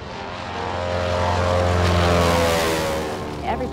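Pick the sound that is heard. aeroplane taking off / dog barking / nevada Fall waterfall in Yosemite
aeroplane taking off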